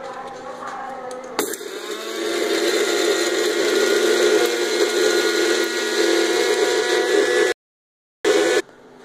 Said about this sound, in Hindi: इस ग्राइंडर में डाल दिए हैं और अब हम इसको अच्छी तरह पीस लेंगे।